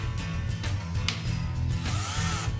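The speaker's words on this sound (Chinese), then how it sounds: "不同的档位我们能明显听见马达转动力度的不同" Cordless electric drill motor running and changing pitch as its speed gear is switched, a close, steady whirring with ratcheting texture and slight surges, no talking.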